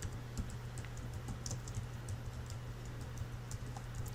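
Faint keyboard typing on a computer, a sparse run of light, quick clicks over a low steady hum, with no voices.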